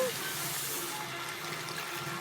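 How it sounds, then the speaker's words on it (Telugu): Water pours steadily into a cooking pan for fish curry, a continuous close rushing splash that holds at an even level throughout. "సరిపడినంత వాటర్ వేసుకోవాలి నేనైతే రెండు గ్లాసుల వరకు వాటర్ వేసుకున్నాను"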